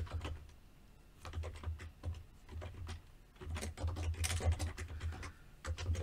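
Quick, light keystrokes tap on a computer keyboard during Java programming work, coming in irregular bursts with short pauses. The typing is close but quiet, with no voices.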